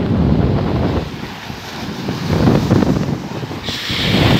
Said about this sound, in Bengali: ঘন্টায় প্রায় 80 থেকে 100 কিলোমিটার গতিবেগ বাতাস বইছে